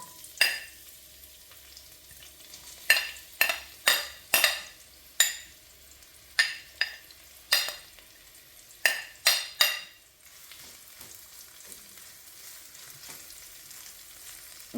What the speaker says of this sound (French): vous allez pouvoir faire blondir vos petits oignons qui sont en lamelles